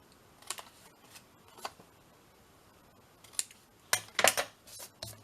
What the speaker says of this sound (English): So what I'm going to do then is just cut the corners down like this